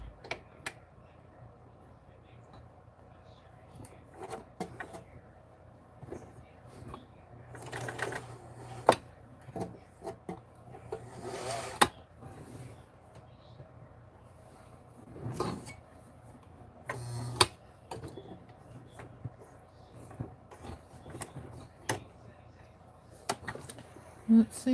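A 1943 Montgomery Ward sewing machine running a stretch stitch, heard as quiet, intermittent bursts of mechanical clatter and ticking separated by near-silent pauses.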